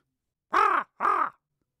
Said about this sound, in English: that's more like a raven or crow sound